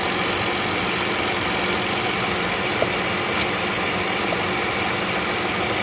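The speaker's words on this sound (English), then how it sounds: "I don't know if you can hear that over the engine noise." A 2014 Ford Flex engine idles steadily at close range, a constant broadband hum and whir with no speech, running during an EVAP purge valve test.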